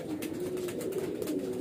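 A long-bodied highflyer breeder pigeon gives soft, low, repeated coos, fairly quiet and close, with no voices.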